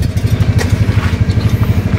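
Motorcycle engine idling while hot, running on red oil in warm weather, a loud, close, steady low thrum with an even rapid pulse and no voices over it.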